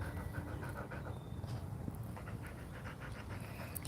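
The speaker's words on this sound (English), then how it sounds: "Look at that dog. He's such a good dog." A dog pants steadily and rhythmically at close range, quick breaths repeating throughout against a low background hum, with no talking.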